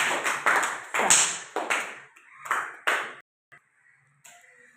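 Children in a classroom break into a short burst of applause, a quick run of sharp claps that thins out into a few scattered ones.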